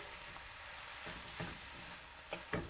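Radish slices stir-frying with garlic in a pan give a steady soft sizzle, with occasional louder stirring scrapes and crackles.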